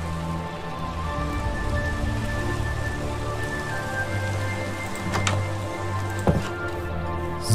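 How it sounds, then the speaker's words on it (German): Steady rain from the video game Minecraft patters on surfaces as a dense, continuous hiss, with a low hum underneath and a couple of brief sharper sounds near the end. "Hier im Regen schlafen wir."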